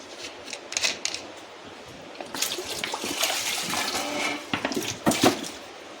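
A little water poured into ground lentils seasoned with salt and turmeric, a soft splashing trickle in uneven bursts, close and moderately loud, with no talking.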